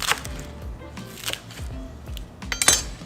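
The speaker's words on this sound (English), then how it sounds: "Just cut off the romaine." A knife cuts romaine lettuce on a board in a home kitchen, making a few quiet, irregular crisp chops and light clinks with soft pauses between them.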